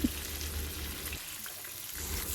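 Fish (kili meen) frying in hot oil with a sprig of curry leaves added, giving a steady, close hissing sizzle that thins briefly midway and then returns.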